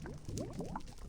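A brew bubbles in a Betweenlands brewery vessel in modded Minecraft, giving off a quick, close run of soft rising blips and gurgling pops that plays on its own for about a second.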